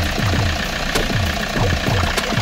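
A Toyota diesel engine idles close up with a steady, rough knocking beat, each clattering pulse repeating evenly without any talk.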